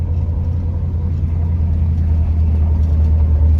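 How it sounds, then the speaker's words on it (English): Ford Mustang driving on the highway after a breakdown repair, a steady low engine drone and road rumble that stays even throughout with no voices. "The car is running."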